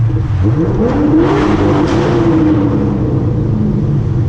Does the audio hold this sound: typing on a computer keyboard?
no